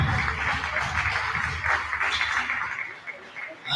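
Applause rises from an audience as a group of cyclists arrives on stage at a Friuli Venezia Giulia cycling awards ceremony, steady dense clapping mixed with some crowd talk, easing off near the end.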